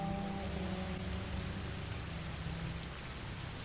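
Steady rain falls in a scene from The Last of Us video game, a continuous hissing downpour with a low rumbling undertone, heard quietly and evenly throughout with no voices.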